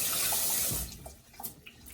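Water runs from a tap while someone washes their hands, a loud close splash and rush at first that drops to a quieter trickle with scattered small drips and splashes.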